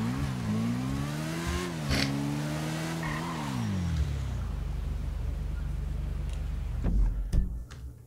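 A motorbike engine in the video game GTA 5 hums steadily, its pitch rising and dipping as the bike accelerates and eases off, then drops to a low rumbling idle with a few sharp knocks near the end.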